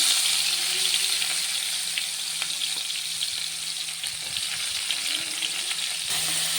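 Sliced onions fry in hot oil, giving a loud, continuous sizzle with occasional light clinks, close up and without speech.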